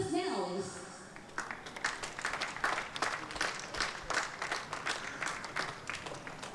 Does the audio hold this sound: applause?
yes